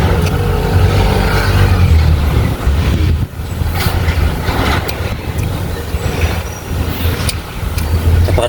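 Heavy road traffic rumbles steadily close by, with engines droning, a passing vehicle surging and fading, and a constant low roar with no speech.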